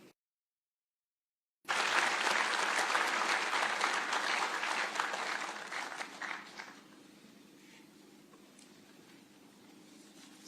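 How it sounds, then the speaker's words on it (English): A crowd at a university graduation ceremony in Nairobi bursts into loud, dense applause after a moment of silence, the clapping holding strong for several seconds before fading to a quieter, thinning patter. "One more round of applause for the VC"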